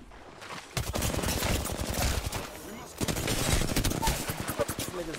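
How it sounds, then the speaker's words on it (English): Rapid automatic gunfire in an Apex Legends–style shooter, loud, dense bursts filling the moment, with a brief pause before the firing resumes. "Are they shooting me?"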